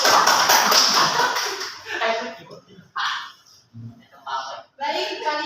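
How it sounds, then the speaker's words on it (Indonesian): Classroom applause for a student group during a microteaching lesson comes as a burst of clapping at the start, followed by short spoken phrases and a few scattered claps. "Kasih aplaus untuk kelompok"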